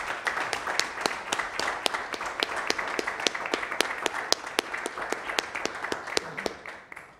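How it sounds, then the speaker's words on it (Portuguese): A crowd claps in tribute to a friend who has died, at a public hearing on a municipal sports fund, the applause steady and sustained, with sharp individual claps standing out from the dense wash throughout. "uma salva de palmas para o Biro"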